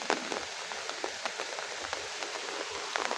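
Rain falls steadily all day on a rural homestead, a constant hiss dotted with distinct sharp drips and taps close by.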